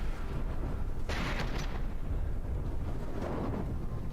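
Flak shells bursting in the naval combat game From the Depths, a loud rumbling roar of explosions with a sharp blast near the middle, continuous and dense throughout.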